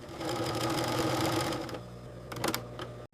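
A sewing machine stitches leather panels in a workshop making premium leather goods, a steady loud mechanical whirring run that slows and fades, followed by a few sharp clicks near the end.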